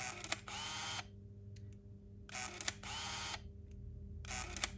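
A Ricoh MyPort Zoom Mini P film camera winds its film back automatically, its small motor whirring in bursts of about a second each, broken by short quiet gaps and faint clicks, close and alone.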